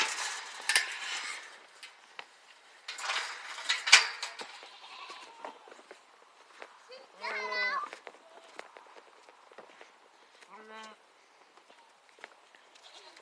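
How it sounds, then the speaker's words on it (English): Two short goat bleats stand out amid rustling, shuffling footsteps and scattered handling noises, nearby and fairly quiet. "Goats break out of boundaries."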